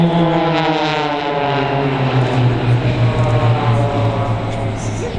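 Aerobatic display aircraft flying in box formation at the Bournemouth Air Festival, a loud continuous propeller drone with slowly falling pitch as the planes pass, steady throughout.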